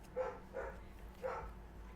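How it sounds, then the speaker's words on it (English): Puppies bark in a few short, separate yaps, about three barks over two seconds, at moderate distance against a low steady hum. "Oh, that sounds like some puppy dogs."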